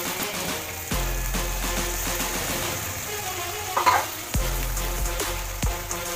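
A ground onion, tomato and green chili gravy simmers and sizzles in a pan with steady bubbling, punctuated by a few sharp clanks of a spoon stirring against the metal.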